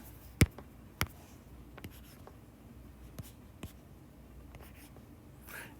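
A marker or pen writing an equation on a board during a physics lesson on circular motion, faint scratchy strokes with a few sharp taps, quiet and close, heard alone.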